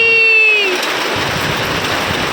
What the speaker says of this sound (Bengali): এই দেখো কি জোর বৃষ্টি